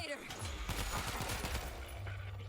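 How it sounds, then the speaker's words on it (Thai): Muffled, suppressed AK-103 rifle fire in the video game World War Z cracks in quick bursts, fairly quiet, with a low hum beneath. "ปืนที่ผมใช้ก็จะเป็นปืนเก็บเสียง AK 103 นะครับ"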